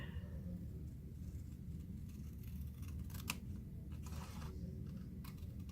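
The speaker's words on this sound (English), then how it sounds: "So we're going to cut it out." Scissors snip through a piece of 6x6 paper to cut out a gift tag, soft sparse clicks and slices over a steady low background hum.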